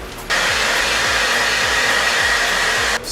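A hair dryer blows on fresh spray paint on a Star-Lord blaster replica, a loud, close, steady whooshing roar that switches on, runs for a few seconds and cuts off.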